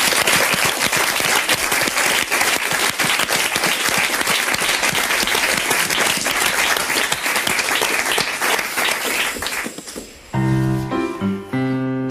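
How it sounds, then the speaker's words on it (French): A large TV show audience claps steadily and loudly for about ten seconds for a singer, then the applause gives way to music starting up. "On l'applaudit très très fort."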